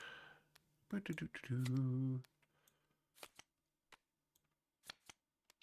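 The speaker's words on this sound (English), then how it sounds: "Hopefully the sound of me pressing the shuffle button is not" A card shuffler runs through a deck for a Marvel Legendary board game, a loud whirring riffle lasting about a second, followed by a few faint clicks and taps.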